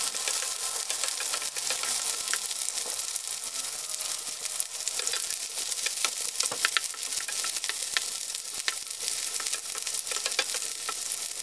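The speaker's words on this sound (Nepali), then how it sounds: "अब यसलाई 10-12 मिनट राम्ररी फ्राई गर्नुहोस्" Sukuti, Nepali dried meat, fries steadily in a pan, a dense bright crackle running without a break, close and fairly loud, with occasional stirring clicks and no voices.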